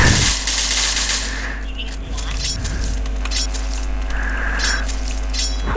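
Rapid video game gunfire rattles continuously and loudly, with a steady electronic hum underneath and people talking over it.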